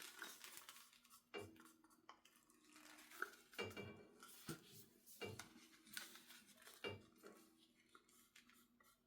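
A utensil scrapes golden yellow acrylic paint out of a cup in faint, repeated scrapes and taps. The scraping comes in uneven strokes with soft clinks against the cup, and no voice is heard.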